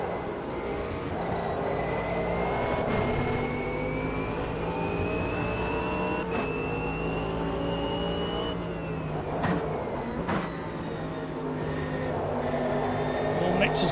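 A GT/GTE racing car in the sim racing game Automobilista 2 accelerates hard, its engine pitch climbing steadily and then dropping at several quick gear shifts, loud and continuous throughout.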